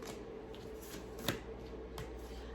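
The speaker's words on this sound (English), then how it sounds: "I'm going to draw these cards back for the outcome" Tarot cards being shuffled and drawn, a steady soft riffling texture with a couple of sharp card snaps, close and fairly quiet, with no talking.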